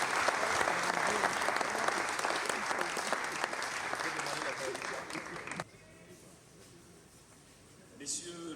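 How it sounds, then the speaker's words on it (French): Loud sustained applause from an audience at the opening ceremony of a Pointe-Noire stage festival, honoring the city's mayor; dense clapping runs for over five seconds, then drops abruptly to quiet room noise before a brief swell near the end. "On l'applaudit très fort."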